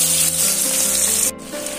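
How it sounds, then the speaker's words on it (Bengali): Cut potatoes frying in hot oil, a loud, dense hiss that holds steady, dipping briefly near the end before resuming, with a faint hum underneath. "এখানে আমি কিছু আলু আমি এইভাবে কেটে নিয়েছি, সেটা আমি তেলের মধ্যে ঢেলে দেব,"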